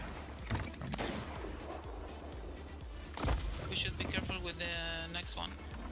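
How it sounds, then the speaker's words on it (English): Ship cannons firing in a pirate-ship video game, two heavy booming blasts a few seconds apart, the second followed by a ringing, resonant tail, with game background noise throughout. "Okay, left side cannons."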